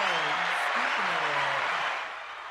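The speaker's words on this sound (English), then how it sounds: "let's see if we got some hand claps" A burst of hand-clap sound effect plays as a dense, hissy wash of applause, with someone talking over it before the claps fade slightly.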